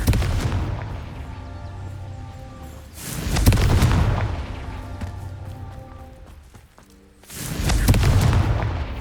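Confringo fire-blast spells explode in the video game Hogwarts Legacy as three heavy, booming blasts a few seconds apart, each followed by a long rumbling decay.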